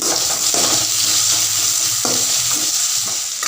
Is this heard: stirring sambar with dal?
yes